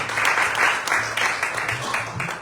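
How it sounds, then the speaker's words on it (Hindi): Loud, sustained clapping from a church congregation at a Sunday healing service, many hands together in a dense continuous patter with some faint voices mixed in. "खुदा के जलाल के लिए बहुत जोर से ताली बजाएं"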